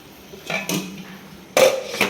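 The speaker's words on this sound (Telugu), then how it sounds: "ఒకసారి మొత్తాన్ని కలిపేసుకొని" Tomato curry with chilli powder stirred in a pan, a utensil scraping and clinking against the metal in a few short bursts, close and fairly quiet with no talk.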